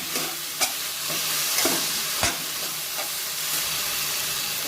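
Tomato added to a spice masala sizzles and fries in a pan for a Bengali mutton and potato curry, a steady hiss broken by a few sharp clacks of the stirring spoon.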